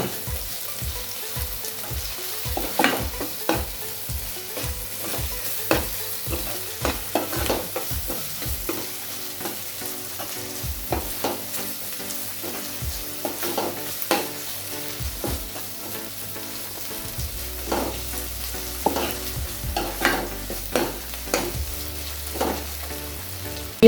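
Ground masala paste frying with onion in oil in a pan, a soft steady sizzle under repeated rhythmic scrapes of a spatula stirring, close and without talk.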